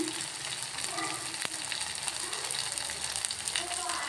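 Ingredients for putani chutney fry in hot oil with a dense, steady, close sizzle and crackle that carries on evenly, with only a single soft knock partway through.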